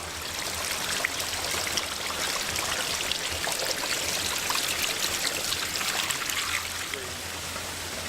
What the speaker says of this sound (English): Now I'm actually behind the waterfall.